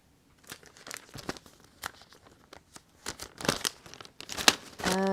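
Close, irregular crinkling and rustling of paper as strips are cut and handled for card making, building from scattered light crackles to denser, louder handling near the end.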